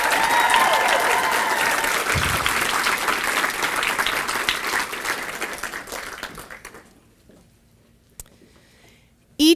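A school Founders' Night audience claps in a full, even round of applause that gradually thins out and dies away, leaving near silence broken by a brief sharp noise at the very end.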